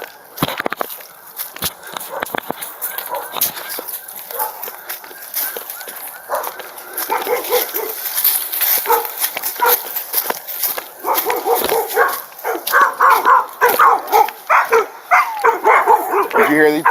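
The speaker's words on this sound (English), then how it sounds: "Did you hear these dogs barking when you came up?" Several dogs bark excitedly during a police chase, the barks and yips coming in bursts, growing louder and denser toward the end, mixed with people talking.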